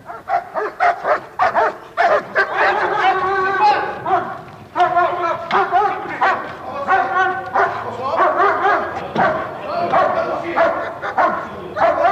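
A police dog barks repeatedly in a rapid, agitated volley that runs almost continuously, loud and close, mixed with whines and yips, with voices talking underneath.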